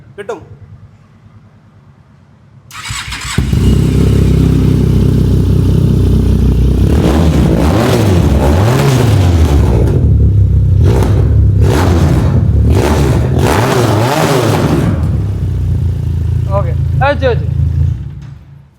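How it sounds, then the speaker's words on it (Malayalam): A motorcycle fitted with an Italian MIVV full-system exhaust starts and revs hard, with loud repeated throttle blips rising and falling over a steady idle rumble. It is close by in a used bike showroom, and people speak briefly over it. "customer Italian ബ്രാൻഡായ മിവിന്റെ full system exhaust ആണ് ചെയ്തിട്ടുള്ളത്"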